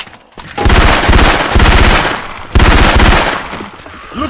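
Syphon Filter weapon sound effects play in Left 4 Dead 2 as loud, close bursts of rapid automatic gunfire, three sustained volleys separated by brief gaps, with no talking.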